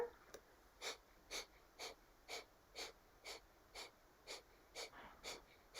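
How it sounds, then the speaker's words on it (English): Rapid, rhythmic breath-of-fire yoga breathing during a seated Kundalini-style posture, about eleven sharp nasal exhales at an even pace, close and moderately soft, with no talking. "Continue with breath of fire."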